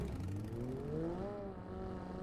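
A car engine in the battle-royale game PUBG Mobile hums quietly in the distance, its pitch climbing briefly as it revs, then settling into a steady drone, with no voices over it.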